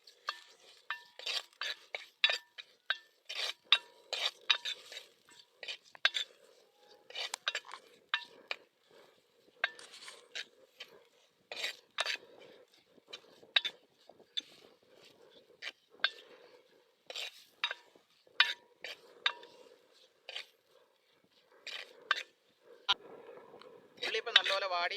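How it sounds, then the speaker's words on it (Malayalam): Chopped shallots and slit green chillies are sautéed in a pan, heard as a steady run of sharp spoon-on-pan scrapes and clinks with a faint sizzle underneath, close and rhythmic. "2-3 കീറിയ പച്ചമുളക് നല്ലപോലെ വഴറ്റി കൊടുക്കണം"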